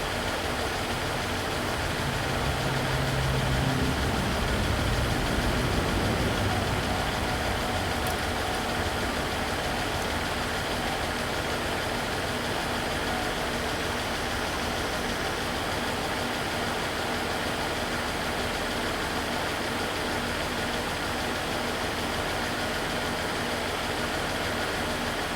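A 2000 Pontiac Bonneville engine idles with a cylinder misfire, a steady, fairly loud broadband rumble held for the whole stretch, with no talk over it.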